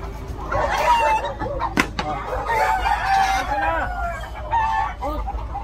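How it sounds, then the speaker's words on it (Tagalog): Caged chickens cluck and a rooster crows on a busy city sidewalk, fairly close, with traffic noise and people talking underneath. "Ayun, mga manok-manok."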